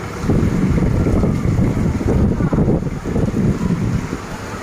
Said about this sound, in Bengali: দেখুন অনেক বৃষ্টি হচ্ছে